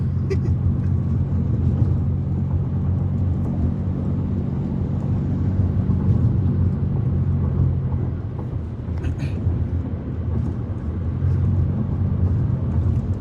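A car driving at about 80 km/h, a steady low road and engine rumble heard from inside the cabin for the whole stretch, with people talking over it intermittently.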